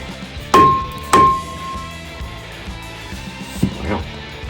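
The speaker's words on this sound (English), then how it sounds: "hammer." Two sharp, loud hammer blows about half a second apart strike a rusted brake rotor on a Ford F250, each ringing briefly with a metallic tone. A few softer knocks follow near the end.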